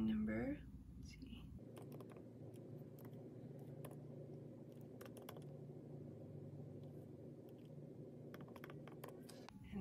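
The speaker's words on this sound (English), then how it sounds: "I am just going to type in that ISBN number" Quiet clicking of keys on a computer keyboard as an ISBN number is entered, scattered taps in short clusters over a low steady hum, faint and close.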